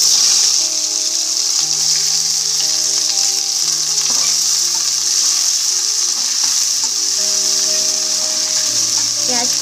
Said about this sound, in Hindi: अब हम प्याज डाल देंगे इसमें।